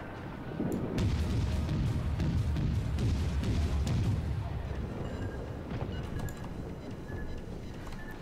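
A warship taking a torpedo hit in World of Warships, a heavy deep boom followed by a long rumbling, rolling roar of explosions and impacts that slowly fades.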